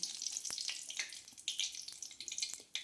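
Flattened rice (poha) frying in hot oil, a bright crackling sizzle with scattered sharp pops and spatters, close and steady, no voices.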